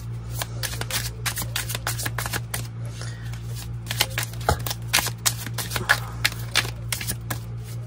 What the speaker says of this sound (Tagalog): balasahin muna po natin itong ating baraha